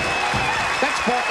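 A weightlifting crowd cheers and applauds a record snatch at an international women's 69 kg competition, a dense roar of clapping and voices, with a commentator talking over it.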